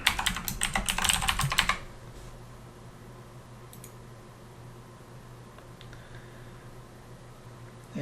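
Fast clatter of keystrokes on a computer keyboard as a root password goes in, a dense close burst lasting under two seconds, then quiet fan hum with only a couple of faint taps.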